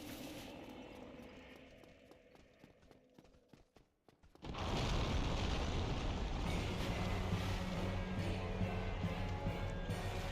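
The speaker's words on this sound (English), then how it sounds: "I'm really glad that this guy's explosion attack does hurt the hollows as well." Enemy explosion attack in Dark Souls: Remastered, hitting nearby hollows: faint clicking and scraping give way to a sudden loud blast that holds as a sustained roar to the end.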